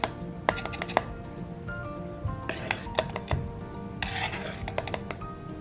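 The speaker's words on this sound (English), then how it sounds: "we're gonna whisk together the flour, the baking soda, and the baking powder" Flour, baking soda and baking powder are whisked together in a bowl, giving rapid metallic scraping and clinking in a busy run of strokes, fairly quiet and close.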